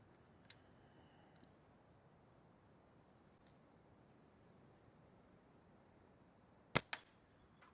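A single sharp, loud slingshot shot cracks out in cold weather after a quiet stretch, followed by a brief echo and a few faint ticks.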